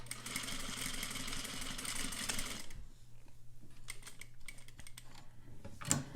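Sewing machine running steadily as it stitches a half-inch overlock closed topstitch seam, then slowing into a short back stitch at the end, followed by light clicks and handling sounds; no talking.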